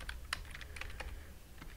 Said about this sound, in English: If I type this correctly